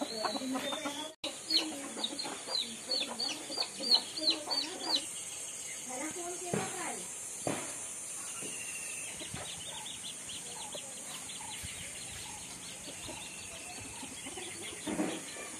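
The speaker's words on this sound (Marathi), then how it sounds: "तशीच कोंबडी वगैरे फिरत असतात आपल्याकडे." Free-roaming village hens and a rooster cluck around a yard in a Maharashtra village, a run of close, rhythmic clucks and short calls early on, then quieter scattered ones with faint voices in the background.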